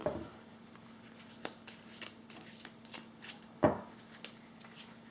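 Tarot cards riffle and slide under the hands, a quiet close shuffle with soft flicks and a sharper snap as a card is drawn, with no talking over it.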